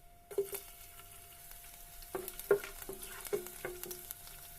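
Oil heating in a pan for egg fried rice gives off a faint, steady sizzle, broken by a few light clinks and pops of cookware being handled, with no talking.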